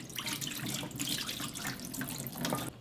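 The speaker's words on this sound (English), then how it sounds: "So I'm going to pour out the water." Water pours steadily from a bowl into a kitchen sink during the making of Korean sweet and sour pork, a continuous close splashing rush with no talk.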